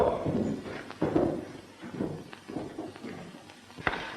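Horse hooves clip-clopping on the ground in a 1932 Western scene, a steady loose rhythm of several fairly close, moderately loud hoof thuds with a sharper knock near the end and no talking.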